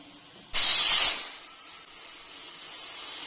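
A pressure cooker whistle bursts out with a loud rush of hissing steam, lasting about half a second before dropping off into low background noise.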